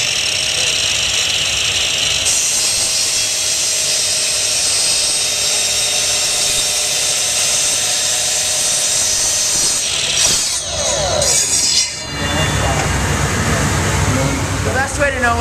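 A power saw cutting coasters runs steadily for about ten seconds, a loud continuous whine with a high buzzing edge, then cuts out into scraping and a voice.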